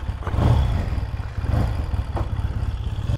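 A vintage motorcycle engine running close by, a steady low rumble with a loping throb and slight swells, with no talk over it.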